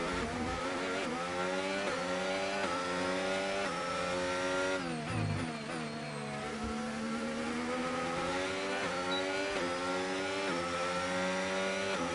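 Formula 1 race car engine lapping in the F1 25 video game, a loud steady high-revving whine that dips briefly on a downshift and then climbs back, sustained with no voices.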